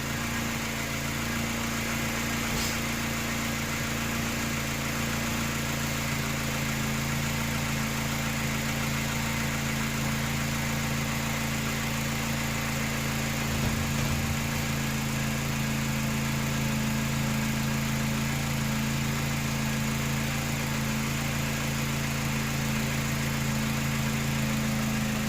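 A 2009 Mini Cooper Clubman engine idling after a thermostat housing replacement, a steady close-up hum with a constant low drone and faint vibration, unchanging throughout.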